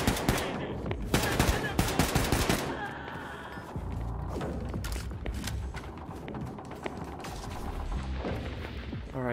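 Rapid bursts of automatic gunfire and booming shots from the video game Wolfenstein II: The New Colossus, loud and dense at first, then sparser shots continuing over game effects.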